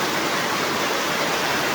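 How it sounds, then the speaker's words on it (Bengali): Heavy rain pours down steadily, a dense, even broadband hiss close by with no pauses and no voices. "অনেক বৃষ্টি, প্রচুর পরিমাণে বৃষ্টি হইতেছে"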